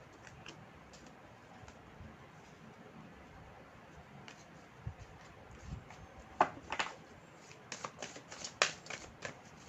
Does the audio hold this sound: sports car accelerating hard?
no